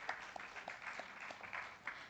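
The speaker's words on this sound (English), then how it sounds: "Can we give the panel a warm round of applause," A small audience at a climate governance summit claps for a panel, light, fairly faint applause with a few distinct claps standing out over roughly two seconds.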